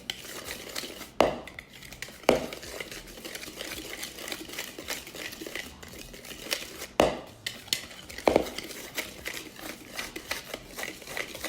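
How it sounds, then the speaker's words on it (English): A whisk stirs salt and seasonings into flour in a bowl for fried chicken, a soft continuous scratchy rustle punctuated by several sharp metallic knocks against the bowl, close up with no talking. "I'm just going to use my whisk to mix all of this up"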